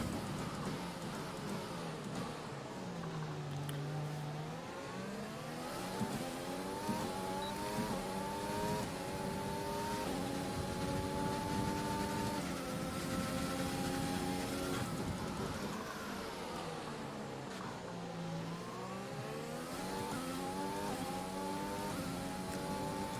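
Race cars on the final lap of a racing video game, with engines whining and sweeping up and down through repeated gear shifts. The roar is steady and continuous at moderate loudness, with no talking.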